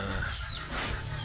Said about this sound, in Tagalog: Mga alaga po nating mga manok.